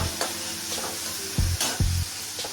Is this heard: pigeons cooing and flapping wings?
no